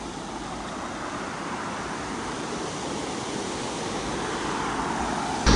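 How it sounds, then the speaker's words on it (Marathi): The large Bahubali waterfall at Sudhagad Pali rumbles as a continuous, even wash of falling water, holding steady and swelling slightly toward the end, with no talking. "आपल्याला असा भव्य असा मोठा बाहुबलीचा धबधबा पाहायला मिळतं"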